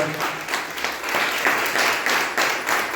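Crowd at a corporate brand-award celebration claps for the company's global CEO, a moderate, continuous patter of many hands with slight swells, heard from a little distance with no voices over it.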